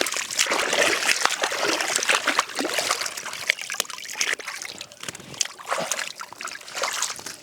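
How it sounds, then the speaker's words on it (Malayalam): Mangoes and pomegranates are washed in water, giving continuous close sloshing, trickling and small splashes throughout. "ഫ്രൂട്ട്സ് ഒക്കെ കഴുകിയെടുക്കാനുള്ള പരിപാടി നോക്കുകയാണേ. മാങ്ങ, മാതള നാരങ്ങ."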